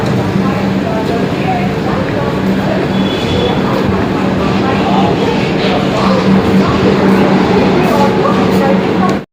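A loud, steady rumble of a local train fills the scene, with crowd chatter and voices mixed into the din.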